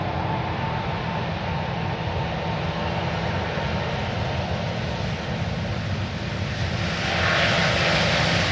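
A Cathay Pacific airliner takes off at windy Manchester Airport with a sustained, fairly distant engine roar and hiss that swells near the end, with no talking over it.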